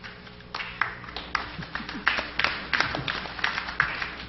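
Scattered clapping from a crowd, uneven and irregular, building in short bursts with some faint voices underneath.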